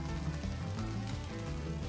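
Bread sizzles and fries on a Flamethrower Grill griddle for a sandwich, a soft, steady crackle heard alone at low volume.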